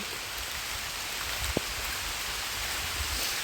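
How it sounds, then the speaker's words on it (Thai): Rain falls steadily through a forest during a mushroom hunt, a soft, even hiss of drops with one brief nearer tap partway through. "ฝนตกฝนกำลังตกมา"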